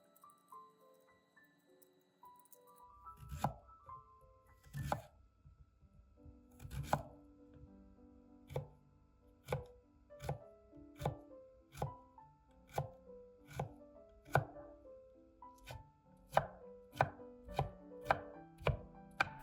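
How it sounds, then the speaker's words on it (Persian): Two medium peeled turnips being diced into small cubes with a knife on a board, slow isolated chops at first that speed into a steady run of sharp close taps, against quiet background music and no speech. "بعد 2 عدد شلغم متوسط داشتم که اول پوستشون رو گرفتم، بعد به صورت مکعبی ریز خرد کردم."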